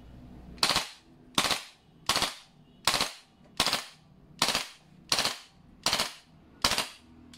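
A GHK G5 airsoft gas blowback rifle fires eight sharp, evenly spaced shots, each a loud crack with a brief mechanical clack, at close range with no talking.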